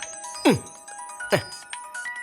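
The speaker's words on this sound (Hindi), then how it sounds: "मानिक राज का ही फोन है।" A phone's ringtone sounds for an incoming call indoors, two bright chiming bursts with sweeping tones about a second apart over a faint steady background hum.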